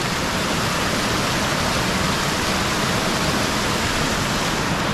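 Pure mountain spring water rushes steadily from its source in a dense, loud, continuous wash close by, with no voices over it.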